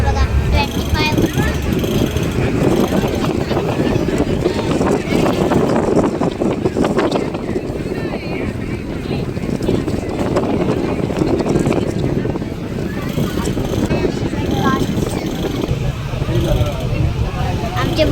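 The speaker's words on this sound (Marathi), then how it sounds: "बघू शकता आता आमची बोट निघली आहे" A boat setting off on the Kerala backwaters, with a steady loud engine drone and wind buffeting the microphone throughout as people talk over it.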